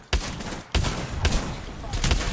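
Gunfire from Call of Duty Warzone: a few sharp, loud game gunshot bursts spread unevenly across a couple of seconds, with some talking in the background.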